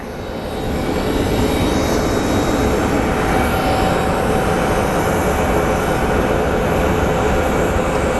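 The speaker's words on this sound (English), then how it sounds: "There we have another plane pushing back." Airliner pushing back at Phoenix Sky Harbor airport, a loud, continuous broadband engine roar that rises in the first second and then holds steady, heard alone.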